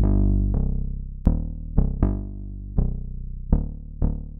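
Melodyne-edited bass notes with the dynamics slider dragged back, roughly eight plucked notes with sharp attacks that fade quickly, loud and clear with nothing else.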